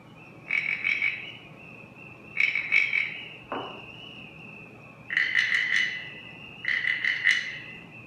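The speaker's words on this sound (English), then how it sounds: "this sounds like a whole backyard full of crickets, when I just lightly blow through the whistle" A lightly blown samba whistle gives a trilling, cricket-like chirp in four bursts separated by short pauses, fairly close and alone.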